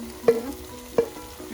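Pork goes into frying masala in a pan for Goan sorpotel, with a steady close sizzle broken by two distinct stirring knocks and scrapes.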